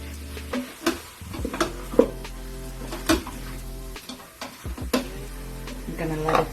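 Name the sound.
lamb sauteing in a pot with flour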